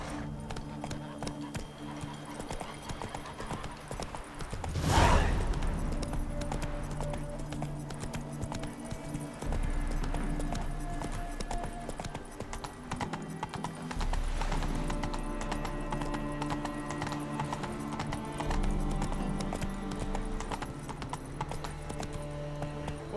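Roach, Geralt's horse in the video game Witcher 3: Wild Hunt, gallops with a continuous rhythmic clatter of hooves. A louder thump hits near the start, then the hooves keep going under background game music.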